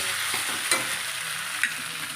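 Vegetable chow mein noodles with fried potato stir-frying in a pan, a steady close sizzle broken by two sharp scraping stirs.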